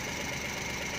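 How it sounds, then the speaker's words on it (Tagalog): A rebuilt Japanese-made engine, freshly overhauled with a new cylinder block and a replaced ignition coil, runs at a steady idle, a close, continuous mechanical hum with a faint knocking texture throughout. "So maganda na yung andar ng makina"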